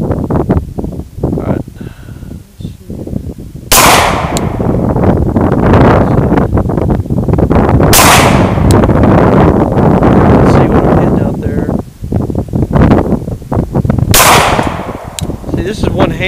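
Three sharp, loud gunshots from a Glock 23 third-generation pistol, spaced several seconds apart outdoors, over constant wind noise and rustling.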